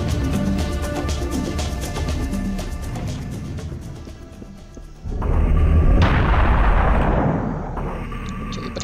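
Rocket explosions in the first-person shooter Serious Sam go off as loud, dense booms and rumbling blasts. The blasts crowd together, with a big burst of debris near the middle, and no talk is heard over them.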